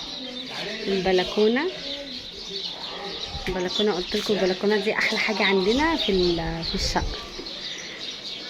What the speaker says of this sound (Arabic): بصوا سامعين صوت العصافير